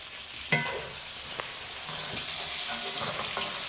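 A rib eye steak sears in a hot iron skillet with a steady, close sizzle and a sharp knock or clatter near the start, then a quieter tap as the frying carries on.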